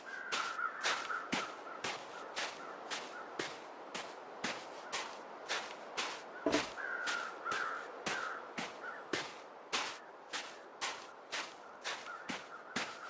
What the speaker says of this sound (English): Hi, birds. I hope you're not just waiting for me to die.